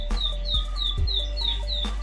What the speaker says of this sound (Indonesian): burung ciblek sawah ini sudah gacor ya